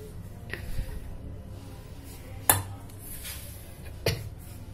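Condensed milk is stirred into a chocolate fudge mixture, giving soft, muffled mixing noises in a bowl broken by two sharp clinks of a utensil against the rim, close and fairly quiet.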